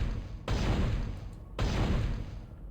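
Two gunshots in the game Dead Space Demake, about a second apart, each a sharp blast followed by a lingering tail.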